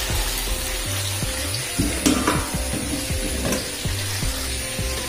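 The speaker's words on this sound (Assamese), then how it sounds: "এইফালে এয়া ভেন্দি ফ্ৰাই কৰি আছোঁ" Okra sizzles steadily in a hot pan as it fries, a continuous close crackle running throughout with a few brief clanks.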